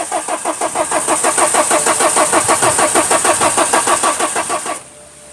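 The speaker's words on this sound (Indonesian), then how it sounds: "coba tak starter lagi Om ya" A BMW car engine being cranked with the starter in a car that has broken down at a red light: rapid rhythmic cranking pulses for nearly five seconds, loud and close, ending abruptly without catching.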